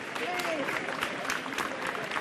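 A crowd at Deauville racecourse in France applauds jockey Christophe Lemaire after a winning return, a steady wash of clapping with voices over it.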